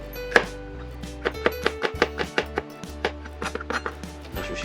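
A kitchen knife slices garlic cloves into thin 1–2 mm pieces on a cutting board, a close, steady run of about a dozen crisp taps, then a short quicker cluster.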